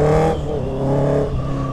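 Honda CR 650 R motorcycle from 2022 fitted with an Atalla 4-into-1 full 304 stainless steel exhaust, running steadily with a loud harmonic engine drone that drops slightly in pitch after a brief higher rev at the start, with no talking.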